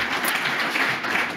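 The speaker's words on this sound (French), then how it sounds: "Je pense qu'on peut les applaudir pour leur intervention." An audience claps after artisans speak at a Bordeaux eco-venue event, a short, dense burst of applause from a room full of hands, steady throughout.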